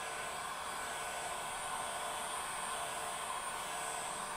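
A heat gun runs steadily during paint or putty removal with a putty knife, a constant broadband airy hiss with no pauses, moderately quiet and heard alone without talk.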